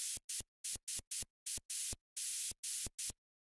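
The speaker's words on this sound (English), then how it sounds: "I added this white noise to support the drop lead." A white noise layer in an FL Studio future bounce track, supporting the drop lead and cut off by filter automation, heard as loud bursts of hiss that start and stop abruptly in a rhythmic pattern.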